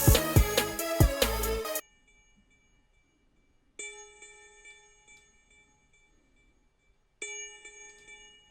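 Bell melody in a Logic Pro X mix rings out in two separate phrases with clear sustained tones and long decays, after a short dense burst of other instruments, separated by near silence.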